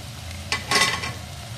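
A curry with green chili paste fries quietly in a pan. A soft low simmer runs under two brief bursts of sizzle or stirring, with no talk over it.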